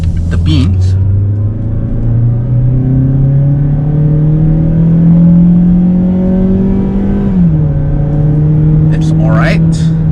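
A Mazda CX-5 2.0 GL with a naturally aspirated engine accelerates hard from inside the cabin, a steady loud engine drone climbing in pitch for several seconds, easing at a shift, then rising again, with brief voices near the start and end.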